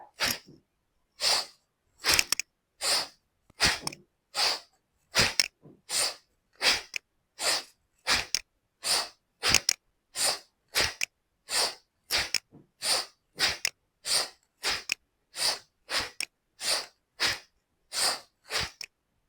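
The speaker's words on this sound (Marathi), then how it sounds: "श्वास घ्या सोडा घ्या सोडा" Rhythmic forceful breathing in and out during a thyroid breathing exercise: about two dozen sharp, loud nasal bursts repeat at an even, brisk pace, close up, with near silence between them.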